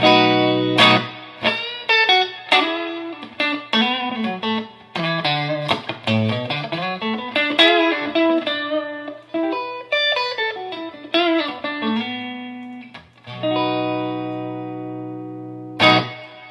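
Clean electric guitar through a Quilter Aviator Cub 50 amp with Tweed and Blackface channels blended and a touch of reverb, picking a melodic run of single notes and chords with sustained ringing tones, played alone without talk.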